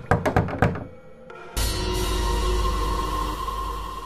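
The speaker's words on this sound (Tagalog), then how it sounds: "biglang umaling-awngaw ang isang mabigat na katok" Several quick, heavy knocks land on a door in a rapid cluster, then give way to a loud, sustained rumbling drone that fills the rest of the moment.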